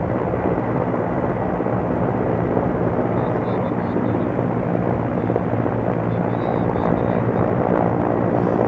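An Indian Air Force Mi-17 helicopter at a military display. Its rotor and turbine roar is loud, constant and broadband, holding at an even level for nearly nine seconds.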